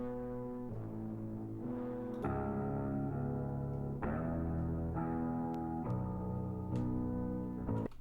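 Remix beat run through a half-speed effect that pitches it down: thick, slowed, distorted low chords with heavy bass, changing roughly every second or two, with sharp hits between, loud and continuous with no voices.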